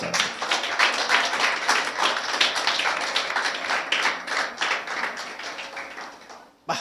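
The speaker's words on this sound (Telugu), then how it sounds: "చప్పట్లు కొట్ట." Audience clapping at a church sermon, a burst of brisk, crowded applause that holds steady before fading out near the end.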